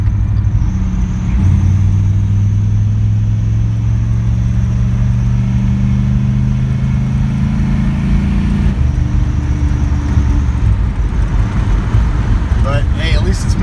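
A 1978 Pontiac Phoenix engine, set up with about two pounds of boost, runs loud and close with a steady droning hum that shifts pitch as it revs, while a person talks over it.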